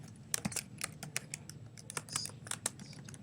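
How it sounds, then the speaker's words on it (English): Typing on a computer keyboard while entering text in a web page editor, a quick irregular run of light plastic key clicks with small pauses, close and fairly quiet, with no talking. "So I can type text"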